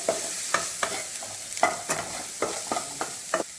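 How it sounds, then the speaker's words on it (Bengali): Turmeric and chili powder stirred through oil in a frying pan over a lowered flame, a spatula making regular scraping strokes about every half second over a soft, constant sizzle, close and fairly clear. "দিয়ে দেবো সামান্য হলুদ, দিয়ে দেবো সামান্য লঙ্কার গুঁড়ো, হালকা করে মিশিয়ে নেবো।"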